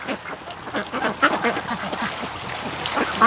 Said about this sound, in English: Seriously happy ducks.